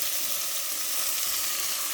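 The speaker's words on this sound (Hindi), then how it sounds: "ये टमाटर जो मैंने मीडियम 2 काटे हुए हैं ये डाल दूँगी। और इसको भी फ्राई कर लेना।" Medium-chopped tomatoes frying in a pan for a cauliflower sabzi, giving a close, even, continuous sizzle with no pauses.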